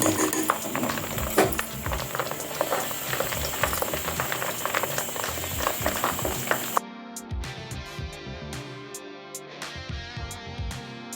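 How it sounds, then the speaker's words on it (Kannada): Water splashed into hot homemade ghee, rendered from butter, sets off a loud, dense crackling sizzle that runs steadily for several seconds, then cuts to quieter, thinner bubbling with scattered pops. "ಆಯಿಲಿಗೆ ನೀರು ಹಾಕಿದಾಗ ಸೌಂಡ್ ಬಂದಾಗೆ ಆದರೆ ತುಪ್ಪ ರೆಡಿಯಾಗಿದೆ ಅಂತೇಳಿ ಈಗ ನೀರು ಹಾಕಿ ಚೆಕ್ ಮಾಡ್ಕೊಳ್ತಿದ್ದೇನೆ"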